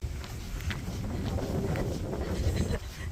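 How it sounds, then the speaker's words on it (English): Strong wind gusting across a microphone on a coastal walking trail in South Korea, a loud continuous rumbling buffet with rustling throughout. "The wind has picked up, unfortunately."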